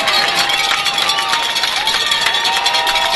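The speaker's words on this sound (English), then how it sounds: "the Titan fans are on their feet again, cheering for that defense." High school football fans on their feet cheering for the defense on third and long, a loud continuous roar of shouting and whooping filling the whole stretch.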